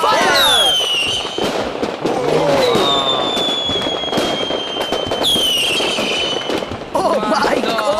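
A $40,000 fireworks show launches in a rapid barrage of whistling rockets, crackling bursts and booms, loud and continuous, with excited voices reacting throughout.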